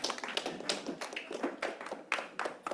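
A small audience at a Constitution Day talk claps, dense rapid clapping with no talk.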